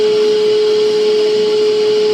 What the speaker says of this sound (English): let's get to the grinding